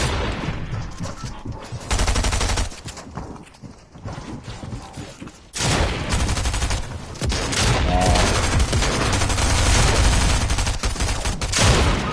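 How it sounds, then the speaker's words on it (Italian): Dense gunfire and rapid shots come from all directions in the Fortnite video game, loud and continuous with bursts that swell and fade, alongside busy game effects. "ci sparano da tutte le parti, ci sparano"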